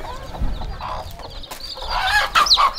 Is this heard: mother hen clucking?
yes